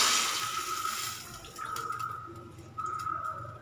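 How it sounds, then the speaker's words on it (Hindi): Roughly a glass of water poured into a hot kadhai while making sweet vermicelli without milk, giving a steady splashing pour with hissing sizzle that comes in short repeated bursts, alone and close. "अब उसी कढ़ाई को वापस गरम करेंगे और उसमें लगभग एक गिलास पानी ऐड करेंगे"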